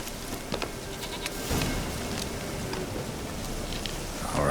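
A goat bleats a few times in the video game Witcher 3, the cries fairly faint against a steady rain-like outdoor ambience.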